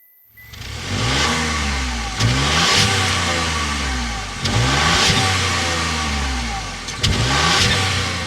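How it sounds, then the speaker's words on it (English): The turbocharged three-cylinder engine of a 2024 Buick Envista ST starts up and is revved several times, each rev rising and falling in pitch, with a throaty exhaust rumble at idle between revs. "start up this turbo 3-cylinder so you can hear that exhaust note"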